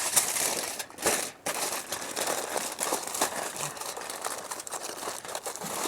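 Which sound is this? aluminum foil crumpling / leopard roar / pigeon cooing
aluminum foil crumpling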